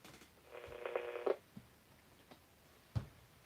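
A phone on a shipping desk rings in a short burst of repeated trilling tones, followed by a few faint clicks and bumps in an otherwise quiet room.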